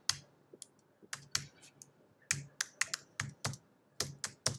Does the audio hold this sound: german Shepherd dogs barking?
no